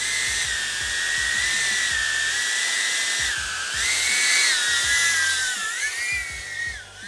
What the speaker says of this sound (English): So the 8 blade is actually way louder than the 6 blade 3 inch and also the 5 blade 3 inch.